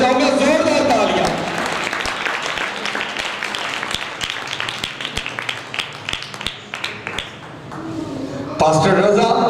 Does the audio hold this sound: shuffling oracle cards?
no